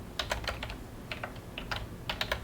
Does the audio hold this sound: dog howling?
no